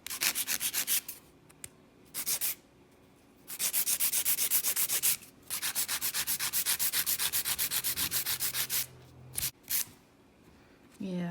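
Acrylic nails being filed narrower with a hand file, loud close rasping strokes in fast even rhythm, broken into several bursts with short pauses between.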